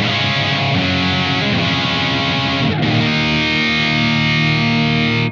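Heavily distorted electric guitar through a Blackstar AMPED-1 100-watt pedalboard amp rings out in sustained, thick chords, loud and steady, with a brief break partway before ringing on alone.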